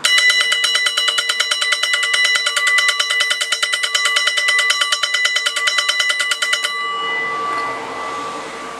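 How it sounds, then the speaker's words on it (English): A small WRRS electric mini railroad crossing bell rings in a fast, steady clatter for nearly seven seconds, bright and close, then cuts off and leaves a brief fading hum. "And here is the mini bell."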